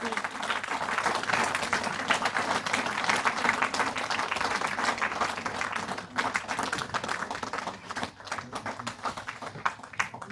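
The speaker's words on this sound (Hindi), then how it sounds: "जोरदार तालियां।" Audience at an award ceremony applauding for about ten seconds, dense sustained clapping that thins slightly toward the end.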